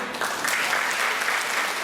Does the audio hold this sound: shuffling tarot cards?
no